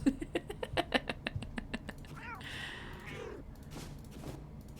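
Cute cats in the video game Finding Cats: a rapid patter of small plucky tones gives way to a couple of drawn-out, wavering meows, soft and close.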